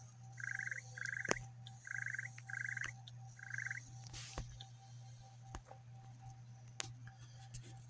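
Frogs croak in Harry Potter: Hogwarts Mystery, a series of short rhythmic croaking bursts that repeat several times before fading. Scattered clicks and taps follow over a faint steady hum.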